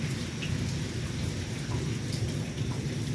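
Rain falls steadily on and around a porch on a dreary day as a tropical storm approaches, a dense, even hiss of drops holding at a constant level with no voices.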